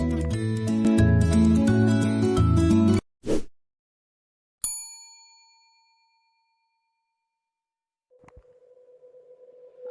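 A notification bell sound effect rings one clear metallic ding that decays slowly. It follows a burst of music and a short thump, and a steady electronic tone comes in afterward.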